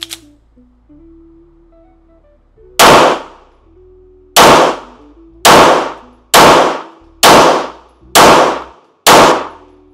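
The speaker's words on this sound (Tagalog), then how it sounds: "Okay, firing." Seven loud, sharp gunshots from a Metrillo Fastidious The Monster edition rifle, fired at roughly one-second intervals and each followed by a short ringing decay, with a low steady hum underneath.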